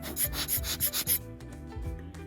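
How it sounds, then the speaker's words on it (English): File putting a chamfer on metal clock movement parts, heard as several quick rubbing strokes up close followed by quieter scraping, with no talking. "Now I'm going to put a little chamfer on these two"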